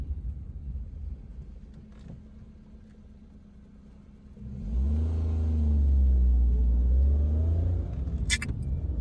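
A car engine rumbles steadily on the Samruddhi Mahamarg expressway, then revs up and grows louder as the vehicle accelerates, with a brief rattle near the end.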